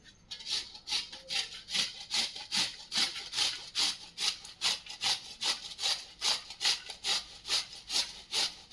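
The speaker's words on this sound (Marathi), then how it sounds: "हा मुळा आपल्याला व्यवस्थित असा खिसून घ्यायचा आहे" A radish is grated by hand in a kitchen, giving a steady, close rhythm of rasping strokes, about two per second, that repeat evenly throughout with no talking.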